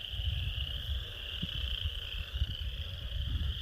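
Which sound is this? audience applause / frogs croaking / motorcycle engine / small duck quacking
frogs croaking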